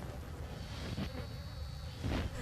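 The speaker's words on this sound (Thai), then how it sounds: "โอ้โหเสียงแมลงวันตอมเนี่ยนี่อะไร" Flies buzz in a steady drone around a corpse in the Outlast horror game. The buzzing is continuous and close, with a couple of louder passes and no speech over it.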